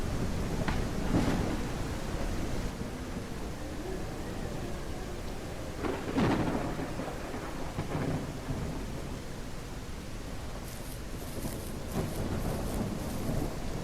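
Steady heavy rain pours down in a video game thunderstorm while several deep thunder rumbles roll through, one loud crack near the middle, with a constant wash of storm noise throughout.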